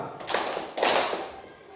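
A classroom group claps in a short patterned 'tepuk diam' clap game, two quick bursts of hand clapping close by with a pause between.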